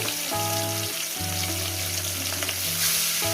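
Pieces of katla fish frying in hot oil, a steady close sizzle with strong tonal hum bands running beneath, no talking.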